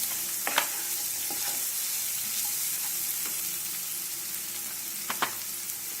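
Mushroom masala with cumin and coriander powder stirred in a hot pan: a steady sizzle and frying hiss throughout, with a few soft scrapes and taps of the spoon, close and fairly quiet.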